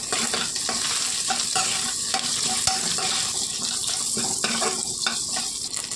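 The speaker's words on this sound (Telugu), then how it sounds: "కట్ చేసి పెట్టుకున్నటువంటి 4 పచ్చిమిర్చిని వేసేసుకొని బాగా ఫ్రై చేసుకోండి" Green chillies fry with shahi jeera in butter in a pan, making a steady loud sizzle with intermittent stirring scrapes throughout.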